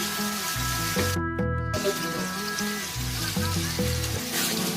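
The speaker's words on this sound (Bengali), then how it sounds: "মশলাটা খুব ভালোভাবে কষিয়ে নিলাম।" Spice paste for mutton curry fries in a kadai with a steady, dense sizzle, constant and fairly close throughout, joined by a few soft scraping stirs.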